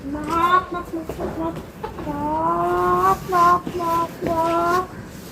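A person imitates a chicken on a farm, making repeated clucking and squawking sounds in uneven bursts over steady background noise.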